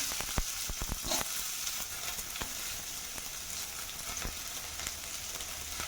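Sliced onion frying in coconut oil, a soft steady sizzle broken by a quick series of sharp ladle taps and scrapes against the pan, fairly quiet and close, with no voices.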